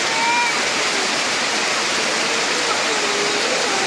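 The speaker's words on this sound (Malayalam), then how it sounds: "അയ്യോ നല്ല മഴ പെയ്തേ" Heavy rain pours steadily, a loud, dense and continuous rushing hiss close by that never lets up, with only faint traces of voices beneath it.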